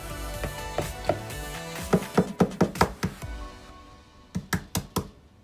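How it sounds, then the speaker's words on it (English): An egg is tapped against a bowl at home while baking, a quick series of close, sharp knocks followed by a pause and another short burst of taps. "You ready to crack the egg and put it in the bowl?"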